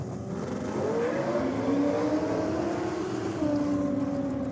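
Pat O'Shea's 440 cubic inch race car engine on methanol roars loudly and steadily, its pitch climbing and wavering under throttle, from a 2023 Kenda 660 motorsport event.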